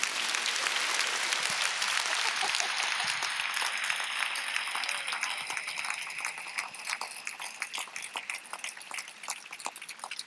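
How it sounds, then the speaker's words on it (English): Dense audience applause fills a college Common Hour panel event, loud and steady at first, then thinning slightly toward the end with distinct individual claps. "would you give a large round of applause to these three wise women?"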